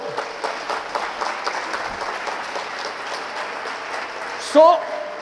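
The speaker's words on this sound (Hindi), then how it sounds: "तो तालियां बजना चाहिए भाई।" A crowd applauds during a motivational talk by an Indian Army brigadier, a continuous moderate clapping wash with a brief louder bump near the end and some faint voices mixed in.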